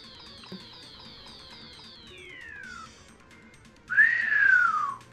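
A person attempts to whistle: a thin, wavering tone slides downward, a short pause follows, then a louder breathy whistle swoops up and falls away.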